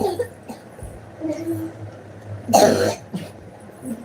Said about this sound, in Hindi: बच्चों को इतना खांसी आ रही है